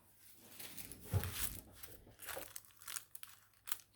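Tissue paper crinkling during the sewing of a bag with vinyl and fabric, heard as quiet, irregular rustles and crunches with a louder burst near the start.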